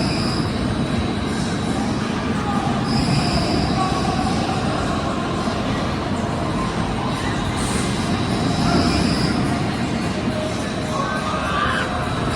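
An Intamin Half Pipe roller coaster runs empty test cycles at a New Jersey park, producing a loud, steady rumble of cars on track with grinding wheel noise that persists throughout, with no voices.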